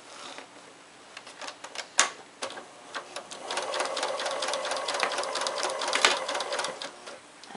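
A sewing machine stitches a zigzag around the raw edges of appliquéd paw-pad fabric, its rapid mechanical chatter building into a steady run with brief pauses and a couple of sharp clunks, close and alone.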